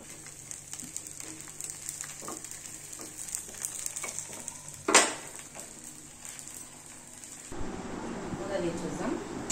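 Ponganalu sizzle steadily in a pan as they cook, a close, continuous frying hiss broken by one sharp scrape and a shift in tone near the end, with a person talking over it.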